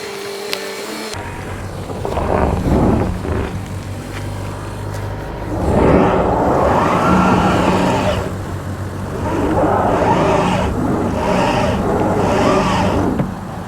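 A 2024 Toyota Grand Highlander Hybrid MAX climbs an off-road hill, its engine rising in two long, loud revving surges after a brief mechanical clunk, with some tire and drivetrain strain.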